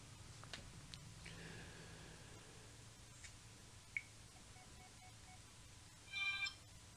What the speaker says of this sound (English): My phone just beeped on me.